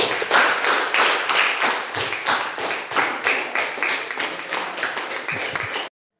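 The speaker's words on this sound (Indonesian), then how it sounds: "Berikan tepuk tangan untuk yang sudah melakukan presentasi ya." Students in a physics class clap for their classmates who just gave presentations, a steady patter of hands filling the room for about six seconds before stopping abruptly.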